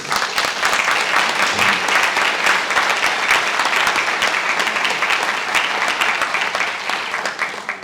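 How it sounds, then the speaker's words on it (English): Sustained audience applause fills an Australia Day awards ceremony held by a regional council in Glen Innes, a dense, steady wash of clapping from many hands that holds evenly throughout and tapers slightly at the end. "I think they deserve a round of applause."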